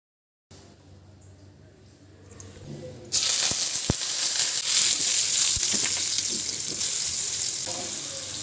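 Tamarind water poured into a hot pan while cooking an elephant foot yam tawa roast, a quiet trickle giving way to a loud, steady sizzle that carries on to the end.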